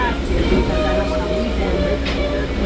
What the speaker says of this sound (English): I believe our train is about to depart